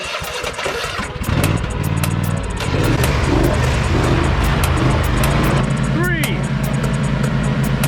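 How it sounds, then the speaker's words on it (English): Several lawn mower engines sputter and catch at the start of a mowing race, then settle into a loud, steady droning roar that continues to the end. "please start your engines"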